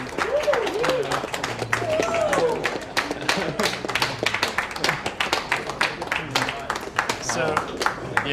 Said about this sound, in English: Give some claps.